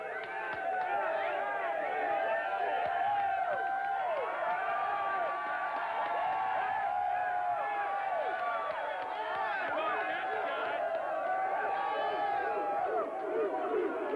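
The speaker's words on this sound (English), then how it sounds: "show some of the cheering over here." Crowd at a sports bar during a Jacksonville Jaguars football game, cheering and whooping in a steady, loud, dense roar of many voices that lasts throughout.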